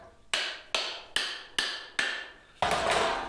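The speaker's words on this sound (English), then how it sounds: "I'm gonna see how much hammering I can get done with this before I put the wedges in" A blacksmith's newly handled hammer, not yet wedged or hardened, strikes metal five times in an even rhythm, each blow a sharp close ringing hit with a short decay, followed by a longer, noisier scraping burst.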